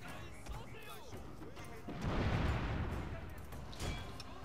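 Gunfire on the battle line in Shogun 2: Total War, a dense rumbling volley of musket shots that swells in the middle, heard under a voice.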